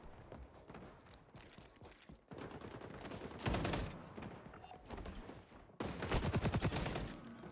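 Rapid gunfire rattles in dense bursts and sustained automatic volleys during a match of the video game xDefiant, fairly faint and steady with short gaps between strings of shots and no talk over it.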